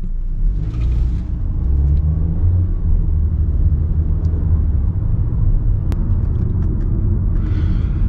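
A 2022 Volkswagen Taos S compact SUV cruises along, its engine and road noise forming a steady low rumble from inside the cabin, with no talking.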